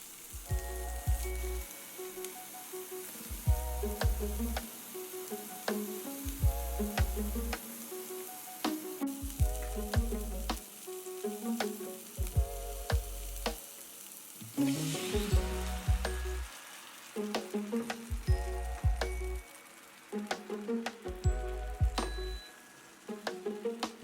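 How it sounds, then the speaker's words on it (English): Vegan banh xeo filling sizzles steadily in an oiled pan over medium-high heat, a continuous frying hiss with a regular series of pulsing low thumps and clicks from stirring. "I have a pan over medium-high heat that I've brushed with a little bit of oil, and I'm just sauteing my filling ingredients"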